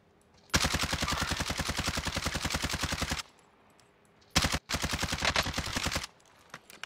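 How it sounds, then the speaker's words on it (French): Automatic gunfire crackles as teams trade shots in the video game Warzone, with one long rapid burst, a brief pause, then two more bursts, loud and close with almost no talk. "Full team là-bas qui tire sur une autre team."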